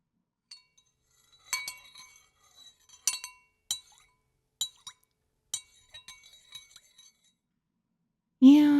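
A spoon stirs water in a glass, giving a series of bright, close clinks spaced irregularly over several seconds, followed by a brief voice at the end.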